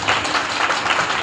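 Audience applause during a speech at a girls' college in Bhowana, steady broadband clapping from a crowd filling the short stretch without a break and no voices over it.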